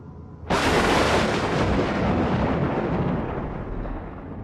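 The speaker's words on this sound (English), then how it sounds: "Shiloh didn't respond, but when the thunderclap hit, he jumped almost entirely off the seat." A sudden thunderclap cracks open during a storm, hitting hard and then rolling into a long, broad rumble that slowly fades over several seconds.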